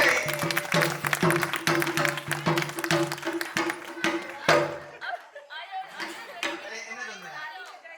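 A burst of clapping from a crowd at a Hindu wedding ceremony with chatter mixed in, loud and steady for several seconds before thinning out as voices carry on.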